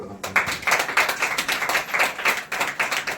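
A church congregation clapping together in a rhythmic run of even claps, several per second, loud and steady for a few seconds after a brief quiet start.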